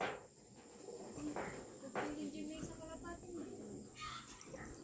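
Racing pigeons coo softly at a loft in Arayat, Pampanga, with a few low murmuring calls over faint background hiss and a steady high-pitched tone, while a voice talks quietly nearby.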